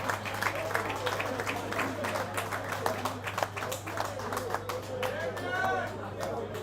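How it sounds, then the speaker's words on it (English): Steady applause from a crowd, many hands clapping at once with a murmur of voices mixed in, close and fairly loud. "Let's clap for David."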